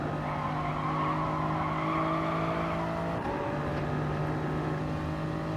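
Toyota GR Supra Gr.3 race car at Interlagos in a racing video game, a steady engine drone with sustained tire squeal as the car slides through a corner, continuous and fairly loud.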